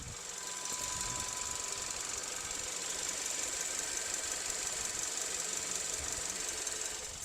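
A 2017 Kia Sorento 2.5 petrol engine runs at steady idle, a continuous close mechanical clatter and whir with a high-pitched whine on top and no talking.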